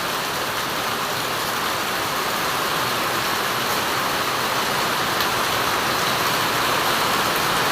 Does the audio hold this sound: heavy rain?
yes